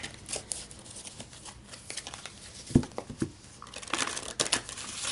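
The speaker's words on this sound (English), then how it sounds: "just bear with me as I shuffle for a few minutes" A deck of tarot cards is shuffled by hand, with a continuous papery riffling and rustling and a few sharper snaps, close and fairly loud.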